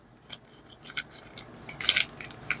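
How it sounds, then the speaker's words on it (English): Scissors snip through packaging in several quick, crisp cuts with rustling in between, close and moderately loud. "let me use my scissors because that's not working."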